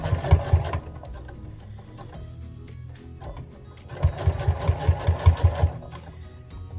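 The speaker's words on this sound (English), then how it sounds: "So I'm sewing along the bottom of the band right now, about 3 millimeters from the bottom." Domestic sewing machine stitching along the bottom of a fabric overall band about 3 mm from the edge, two close bursts of rapid rhythmic needle thumping with a quiet pause between.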